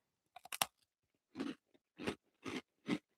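Close, quiet crunching as someone chews a crunchy Finnish snack: a quick cluster of bites followed by four evenly spaced crunches, with no talking.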